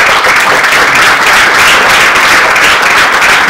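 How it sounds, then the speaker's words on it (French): Loud, dense applause from a crowd at an HTML5 developer meetup, sustained and even throughout with no pause. "on peut l'applaudir"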